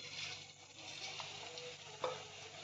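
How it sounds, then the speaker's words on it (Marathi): Coated bitter gourd pieces frying in very hot oil, a faint, steady close sizzle and crackle with one small pop near the end, no voices. "एकदम कडक तेलात तळायचे म्हणजे छान क्रिस्पी होतात आपले कारले"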